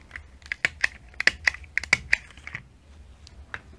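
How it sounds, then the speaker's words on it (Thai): Banana leaf is torn in a series of quick, crisp rips and crackles, about a dozen sharp close-up bursts over a few seconds before tapering off, with no talk. "ฉีกใบตองชั้นแรกนี้ฉีกใบตองไม่ต้องกว้างมาก"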